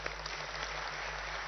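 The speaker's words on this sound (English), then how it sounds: "I think it deserves a bigger round of applause" Applause from an audience at the Mobility Next Hyderabad Summit 2023, a steady dense wash of clapping with a low hum underneath, continuous and fairly distant.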